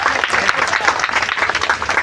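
Audience applause at an outdoor stage performance of a Sita Swayamvar and bow-breaking drama, a dense burst of clapping from a crowd, loud and continuous with some voices mixed in.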